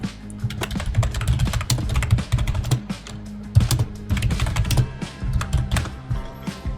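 Fingers type on a computer keyboard while writing HTML code, with rapid, uneven bursts of close, crisp key clicks and thumps and no talking.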